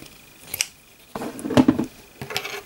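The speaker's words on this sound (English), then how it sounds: "For now I just cut my yarn," Scissors snip through crochet yarn in a few crisp, close cuts with short pauses between, alone in a quiet room.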